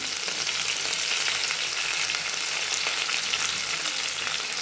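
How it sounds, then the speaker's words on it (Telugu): Mint leaves fry in a pan for restaurant-style dal tadka, giving a steady, dense sizzle that runs without a break at close range, with no talking. "ఇప్పుడు ఇందులో కొద్దిగా పుదీనా యాడ్ చేసుకుందాం"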